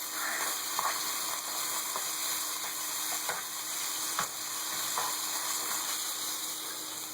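Carnitas pork browning in a slightly too-small pan, giving a constant close frying hiss broken by scattered ticks and scrapes of stirring, with no talking.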